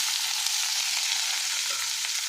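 Chopped onion, garlic and ginger fry in oil in a pan over a village-style wood-fired stove, a steady, close, even sizzle hissing without a break and with no voices.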